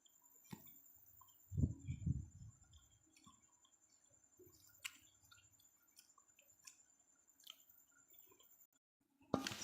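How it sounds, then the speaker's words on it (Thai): Someone eats watermelon up close, wet squishy bites and soft chewing with faint drips and clicks in an otherwise quiet room. "วันนี้ประพานีมากินแตงโมนะคะ"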